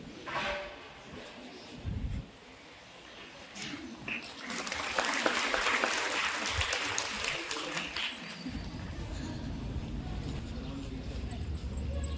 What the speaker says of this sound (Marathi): जोरदार टाळ्या झाला पाहिजे विद्यार्थी मित्रांनो.